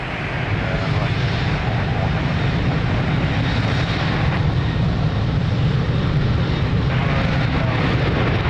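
A Ryanair jet takes off from runway 02 at Lisbon Airport with a continuous, loud, rumbling engine roar that holds steady throughout, while a voice talks underneath.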